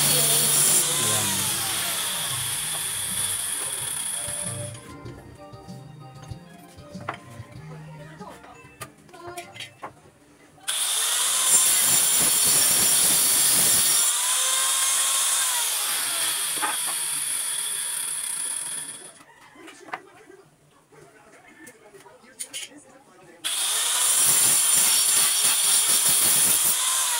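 An uncovered China-made grinder cuts wood for a refrigerator stand, whining loudly in three long runs with abrupt stops and quiet gaps filled with faint clatter between them.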